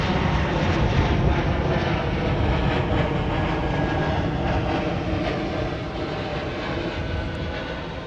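A Boeing 787 Dreamliner bound for Mumbai begins moving at Amsterdam Schiphol, a dense, close jet rumble and roar with wind buffeting, easing slightly toward the end.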